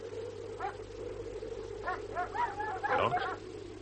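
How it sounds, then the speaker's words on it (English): Police dogs give faint, distant yips and whimpering barks in a short burst of several calls over a low background hum. "Police dogs?"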